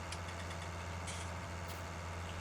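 Tractor engine in Farming Simulator 19 idles with a steady low, throbbing rumble and faint mechanical clatter, constant and close with no talking.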